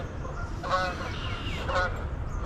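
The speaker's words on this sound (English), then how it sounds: "Got some geese coming in." Two bursts of goose honking, a few calls each from low-flying geese, moderately close over a steady outdoor background hum at a fishing spot.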